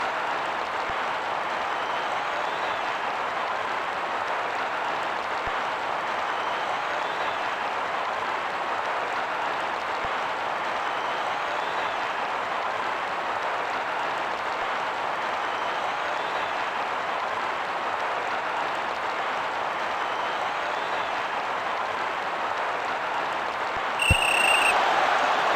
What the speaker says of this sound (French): La foule se déchaîne.